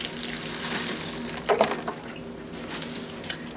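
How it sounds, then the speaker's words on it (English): Compost tea poured onto a freshly potted Maranta prayer plant, a soft trickle and splash of liquid into soil with a couple of brighter drips and gurgles midway, close and alone. "we're going to water it in. I'm just using some compost tea"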